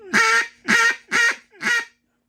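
A wooden reed duck call blown in four evenly spaced, loud nasal honking quacks, close by and alone, then silence.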